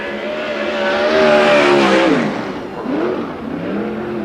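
A 410 sprint car on a Triple X chassis with a Ryder Chevy engine roars through a qualifying lap on an oval, its loud engine note rising then falling as it sweeps past, with no talk.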